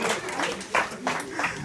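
An audience at a campsite hypnosis show applauds in a steady, continuous wash of clapping, with a few louder swells, fairly close and sustained throughout.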